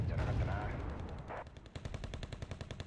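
Rapid gunfire from the real-time strategy game Wargame: Red Dragon, starting as a dense rumbling burst, then a steady stream of sharp, evenly spaced shots continuing to the end.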